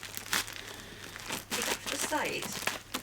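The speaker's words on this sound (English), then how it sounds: "now, if I can find something sharp enough, I will open this package" Wrapping on a mystery package is crinkled and torn open in several bursts of papery rustling and ripping, close and fairly loud, with brief quiet gaps between.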